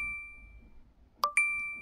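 A notification bell sound effect rings a clear sustained ding, followed by two quick bright bell strikes that ring on with a steady tone, loud against a quiet background.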